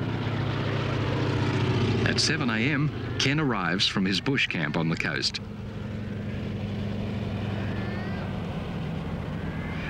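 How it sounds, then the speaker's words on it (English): A de Havilland Beaver floatplane engine drones steadily throughout, a loud continuous propeller roar that carries under someone narrating, in the remote Kimberley of Australia. "operates a beaver float plane into the remote Kimberley"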